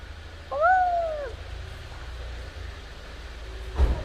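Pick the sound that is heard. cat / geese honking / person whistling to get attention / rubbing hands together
cat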